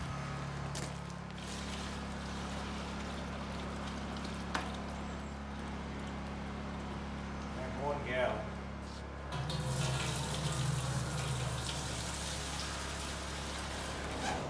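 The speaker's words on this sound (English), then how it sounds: "What you do in that case, you add water." Water pours into a large pot of ground deer and pig meat broth for PA Dutch scrapple, a steady splashing hiss that swells and grows louder partway through over a low background hum.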